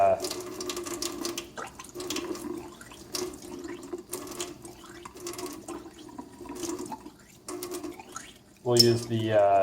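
Test tubes are rinsed with water at a lab sink, giving intermittent splashing and trickling with soft clinks of glass and a louder gush near the end, while a person talks throughout.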